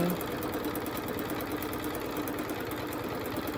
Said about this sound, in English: I'll put my needle in and I'm going to start to sew